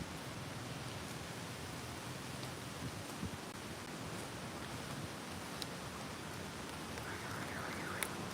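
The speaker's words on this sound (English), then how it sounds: "It is beginning to rain." Soft, steady rainfall pattering on a surface outdoors beside a car, a faint continuous hiss with occasional drips.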